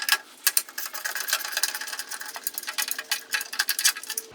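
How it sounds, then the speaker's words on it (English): A socket wrench ratchets off motorcycle taillight parts on a Harley Dyna, a quick run of close, sharp metallic clicks in an uneven rhythm. "I can use a socket to pull these off."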